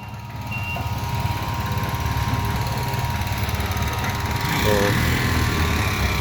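A 3 kW electric motor runs at 1500 rpm, a steady droning hum with a low rhythmic throb, close and fairly loud, continuous throughout with no talk.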